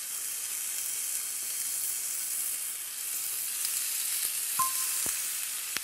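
Bacon sizzles in a frying pan with a steady, dense crackle and hiss, and a few faint clinks and a short tone come near the end.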